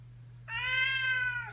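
A cat gives one drawn-out, tonal meow, close and fairly loud, over a steady low electrical hum. No one speaks.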